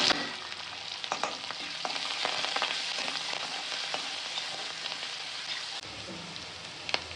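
Curry leaves, green chillies and finely chopped ginger fry in a pan for an upma tempering, giving a steady close crackling sizzle dotted with small sharp pops, fairly quiet, with no talking.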